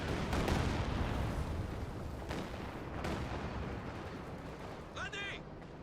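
A volley of rockets in Company of Heroes 2 bursts in a dense, rumbling barrage, with sharp blasts near the start and around three seconds, while a voice talks over the battle noise.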